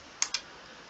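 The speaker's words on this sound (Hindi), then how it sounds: "सर्कल कमांड के लिए आप अपने कीबोर्ड पे C एंटर कर सकते हैं।" Two quick, crisp key presses on a computer keyboard while entering an AutoCAD command, close and isolated against faint room hiss.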